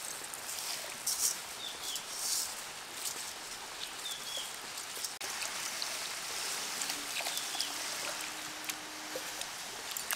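Masoor and moong dal, the moong already fried, are washed together in water with soft, continuous trickling and sloshing, faint and close by, with no talk.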